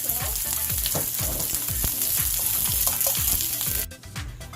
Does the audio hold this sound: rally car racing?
no